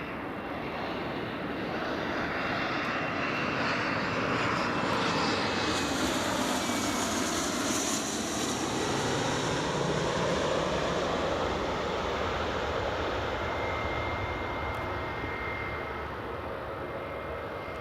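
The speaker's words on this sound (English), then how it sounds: "And there's Scotland's regional airline just landing." A Loganair regional airliner landing at Newcastle airport, a broad steady engine roar that swells and slowly fades over several seconds, heard from nearby with no talking.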